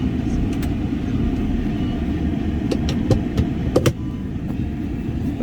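A 2010 Volkswagen Passat Highline 1.8 TSI with manual gearbox rolls along on the road, its steady low engine and tyre rumble filling the cabin, with a few faint clicks and knocks near the end.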